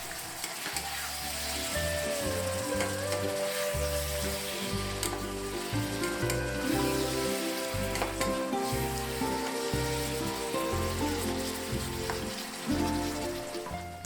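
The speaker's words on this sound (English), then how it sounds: "A handful of snow peas, and let that fry for another minute" Mushrooms and snow peas fry in a hot pan for a stir fry, giving a dense, steady sizzle up close with faint crackles throughout and no talking.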